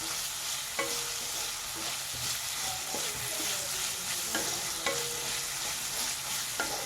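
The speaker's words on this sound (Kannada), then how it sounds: "ಚೆನ್ನಾಗಿ ಹೈ ಫ್ಲೇಮ್ನಲ್ಲೇ ಫ್ರೈ ಮಾಡ್ಕೊಳ್ಳಿ ಆಲೂಗಡ್ಡೆನೂ" Okra and potato pieces fry in oil over a high flame, giving a constant close sizzle broken by occasional spatula scrapes and taps against the pan, with no talking.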